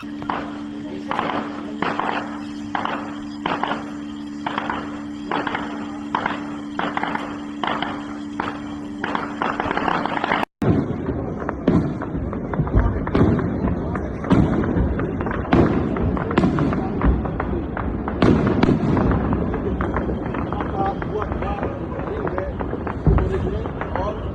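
Explosions ring out across Srinagar during a ceasefire violation. First comes a steady run of regular ticking thumps over a hum, then a dense string of loud, sharp booms and cracks, with voices heard throughout.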